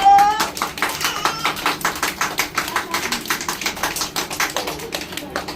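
Young children seated in a circle in a classroom clap their hands together in a steady, even rhythm, many sharp claps close by and fairly loud throughout.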